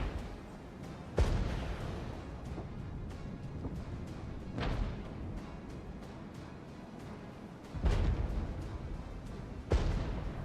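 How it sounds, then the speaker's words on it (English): An anti-aircraft emplacement in the Regiments video game fires at aircraft, sharp booming shots spaced irregularly over a constant battlefield rumble, some louder and nearer than others. "It looks like there is some aircraft, but it's okay. The emplacement's going to shoot them down."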